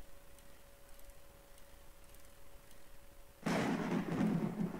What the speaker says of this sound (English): Oh, the storm is a-brewing.